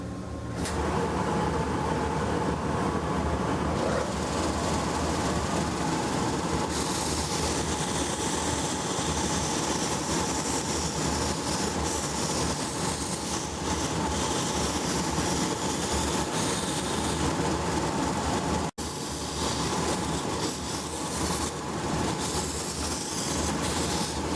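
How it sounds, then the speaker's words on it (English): A straight sander working the straighter edges and outside curves of a wooden piece, with a dust collection blast gate open, makes a loud, constant roaring drone that runs almost unbroken apart from a brief drop near the end. "I'm going to use the straight sander to do some of the straighter edges and outside curves"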